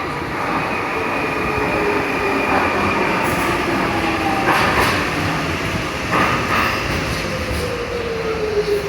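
An underground train at Bank station on the London Underground rumbles and rolls loudly along the platform, with faint wheel squeal and a few clanks over a continuous roar.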